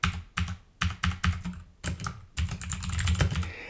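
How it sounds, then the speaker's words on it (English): Rapid bursts of keystrokes on a computer keyboard, close and clear, typed in quick clusters with short pauses between them, ending in a denser run of taps. "you can type in more hashtags."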